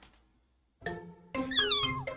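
A small white cat meows twice, close by, the second a longer rising-and-falling cry after a short quiet pause.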